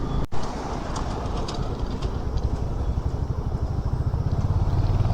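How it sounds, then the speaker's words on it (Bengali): Darjeeling's heritage toy train passing near Batasia Loop, a steady close rumble with a rhythmic clatter of wheels building toward the end. "দার্জিলিংয়ের ঐতিহ্য এই টয় ট্রেন।"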